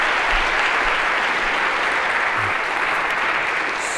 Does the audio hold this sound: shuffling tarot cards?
no